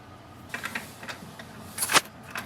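An HP Smart Tank 5106 inkjet printer powers up with quiet mechanical ticks and clicks, and one louder brief rattle near the end. The sound is faint and close.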